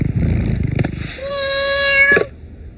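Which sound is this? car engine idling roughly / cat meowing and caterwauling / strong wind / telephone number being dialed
cat meowing and caterwauling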